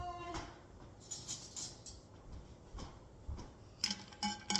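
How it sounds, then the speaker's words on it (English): A spoon stirs protein coffee in a mug, making a few faint, scattered clinks and taps against the sides in a quiet kitchen. "give a little stir"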